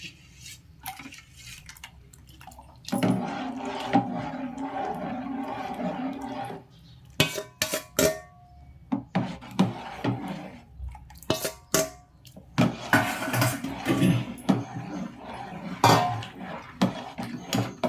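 Rice flour being poured into a pot of boiling water while being stirred, for sago-rice vadiyalu batter: scraping and clinking of a spoon against the metal pot, intermittent knocks and sloshing, close and fairly loud with quiet gaps.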